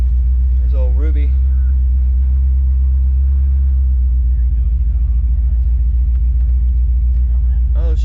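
A truck engine misfiring on one cylinder rumbles at idle, a loud, deep, steady drone that never lets up, with a brief voice heard near the start.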